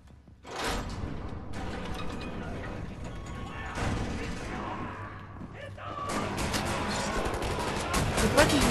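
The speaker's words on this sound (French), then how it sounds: "Fusil à pompe." Pump-action shotgun blasts in the video game Wolfenstein: The New Order, several loud booming shots with mechanical clacks between them, layered over dense, continuous game combat noise that builds toward the end.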